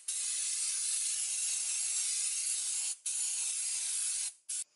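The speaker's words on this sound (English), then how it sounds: "So what we're going to do is just use a bit of brake cleaner." Brake cleaner hisses from an aerosol can onto the brake disc of an Isuzu MU-X or D-MAX, in a long, steady close spray with two brief breaks near the end.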